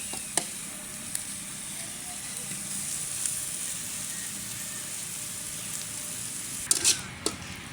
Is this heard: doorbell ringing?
no